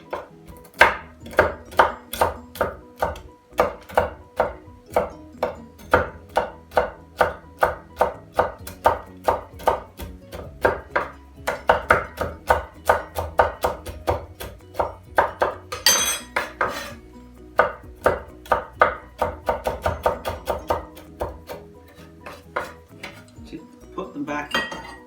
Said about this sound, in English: just get a big knife and chop them up